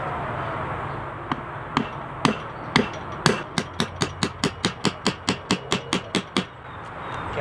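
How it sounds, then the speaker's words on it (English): Repeated hammer blows strike the back of a SOG Seal Pup knife blade, at first a few spaced sharp metallic knocks, then a steady fast series of ringing strikes at close range. "I'll be hammering from the back end"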